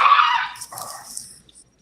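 A dog barks once or twice up close at the start, loud and sharp, then the sound drops to fainter, higher yelps or whimpers and brief rustling before fading out.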